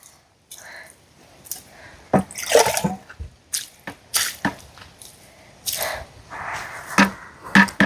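Liquid plant feed is poured onto young chilli seedlings in short separate splashes and dribbles, each a brief wet gush with quiet gaps between, close and fairly loud.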